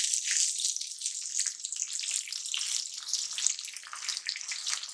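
Onions frying in a pan with dried red chillies give off a faint, steady hiss and crackle of sizzling oil, close by and continuous with no voices.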